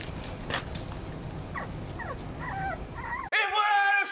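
A dog whimpers and yips close by in a series of thin, rising whines and short yelps that grow more insistent, ending in a louder, sharper burst of cries.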